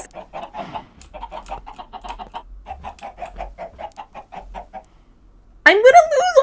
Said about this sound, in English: I'm gonna lose all my chickens again!